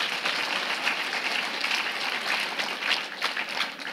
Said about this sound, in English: Can we get another round of applause for Polina's beautiful performance?